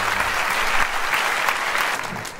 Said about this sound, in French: Un tonnerre d'applaudissements pour les 8 candidats.